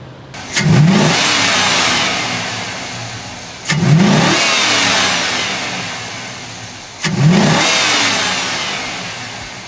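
A Cadillac Escalade or Chevy Silverado truck engine with an aFe cold air intake revs hard three times, each surge roaring up loudly and then slowly settling back, with short pauses between.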